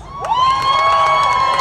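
An audience at a Pride event in Oklahoma City cheers loudly, with high whoops and shrill voices rising above a close, continuous crowd roar.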